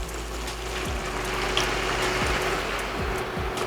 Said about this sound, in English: So now I'm gonna add my two cups of water.